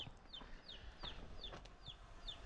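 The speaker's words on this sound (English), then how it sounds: "that's the baby chirping here" A baby chick chirps repeatedly in short, high, downward-sliding peeps about every third of a second, faint against a low background rumble.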